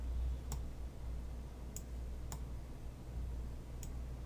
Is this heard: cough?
no